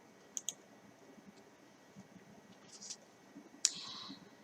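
A computer mouse clicks close by in a quiet room: a quick double click, then a few faint taps and one sharper single click over a low background hiss.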